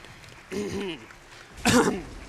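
A person clears their throat and then gives a short, harsh cough close by, with a brief voiced sound between them.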